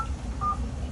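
Telephone keypad tones beep faintly over a steady low hum, with one short tone near the start and a slightly longer one in the middle.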